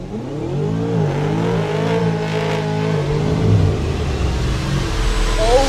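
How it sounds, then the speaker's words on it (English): Chevy Camaro ZL1 exhaust revving loudly up through the range and then settling, a strong, close, rumbling engine roar with no talking. "Listen to that exhaust."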